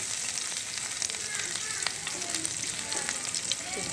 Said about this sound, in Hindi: ये डालेंगे एक हाफ़ चम्मच जो हमारा लहसुन अदरक का पेस्ट था, ये जाएगा इसमें। इसे 2 से 30 सेकेंड तक हम इसे फ्राई करेंगे